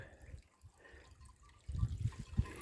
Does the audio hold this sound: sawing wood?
no